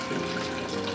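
Water running steadily from a tap, poured as the base for a homemade high-protein vegan smoothie, a close, even, continuous rush.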